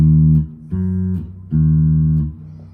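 Three sustained guitar notes from a song phrase, played clean and close, each ringing for under a second with short gaps between, alone without talk.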